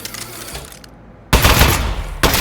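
A gun firing in the video game Aperture Desk Job, with a loud burst of rapid gunfire that cuts in abruptly after a quieter moment, then another burst at the very end.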